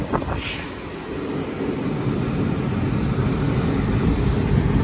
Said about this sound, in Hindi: उस तरफ कोई स्पेशल ट्रेन है क्योंकि इसमें लगा हुआ है WAG9